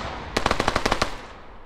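A burst of rapid automatic gunfire in a competitive capture-the-flag video game match, about nine sharp, evenly spaced shots in under a second, loud and close with no voice over it.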